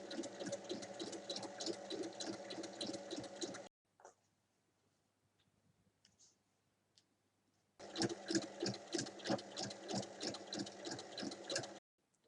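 A sewing machine stitches a bag strip along its full length in two rapid, evenly pulsing bursts of about four seconds each. Near-silence separates the bursts, broken by a few faint handling noises.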